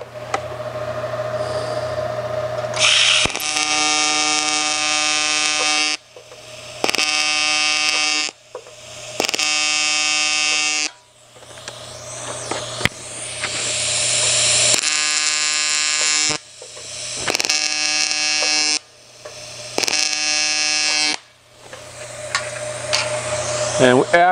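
Aluminum sheet being TIG welded, a steady buzzing arc that starts and stops in repeated bursts of several seconds each, loud and close, with short quiet gaps between beads.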